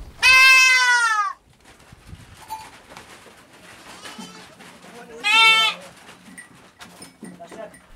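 Goats in a herd give two loud, wavering bleats spaced a few seconds apart, close by, with quieter animal calls and someone talking in between.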